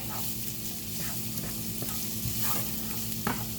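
Mushrooms fry in a pan with onions, a continuous crackling sizzle broken up by several scraping stirs of a utensil against the pan, close and moderately loud.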